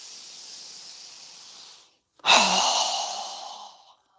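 A strong, breathy exhale during a yoga breathing exercise, a single loud rush of air that starts abruptly after a quieter breath and tapers off over about two seconds, close to the microphone.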